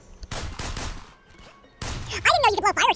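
Dead Island video game combat: a rapid burst of several gunshots, then a short lull and a louder crash-like blast, followed by chaotic, warbling sound effects.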